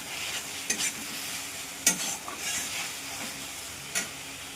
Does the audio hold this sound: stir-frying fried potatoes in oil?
yes